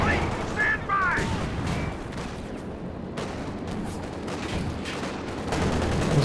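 An artillery barrage in Company of Heroes 2 during a 2v2 match rumbles as scattered distant booms and gunfire crackle under a continuous battlefield din.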